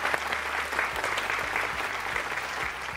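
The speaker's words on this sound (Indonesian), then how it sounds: "Tepuk tangan dulu dong." Steady audience applause after a ballet performance, dense clapping continuing evenly for the full three seconds with no talk over it.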